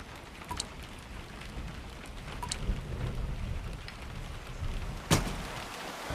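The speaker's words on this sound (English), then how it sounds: "There's going to be a storm." A storm brings steady rain and low rumbling thunder, with a sharp crack close by toward the end, the downpour filling the background without any talk.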